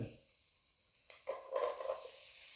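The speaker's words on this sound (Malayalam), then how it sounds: "അതുകൊണ്ടാണ് ജസ്റ്റ് ഒന്ന് വഴറ്റിയെടുക്കുന്നത്." Onion and tomato sautéing in a pan for butter chicken, a soft sizzle with a few quick stirring scrapes and clinks near the end, fairly quiet and close.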